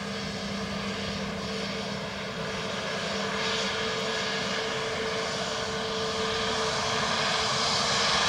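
A Ryanair jet on approach to runway 28 left at Dublin Airport roars steadily with a droning engine hum, growing slightly louder as it nears, with no talk over it.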